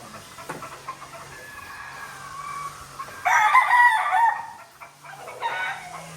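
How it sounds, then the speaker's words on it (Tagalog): Brood stags and hens on a poultry farm, a rooster crowing loudly and close amid scattered hen clucks, with a second shorter crow following. "Ayun, ang mga broodcock."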